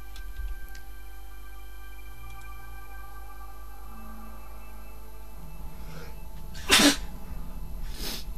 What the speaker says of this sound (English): Great, now I'm in a sneezing fit.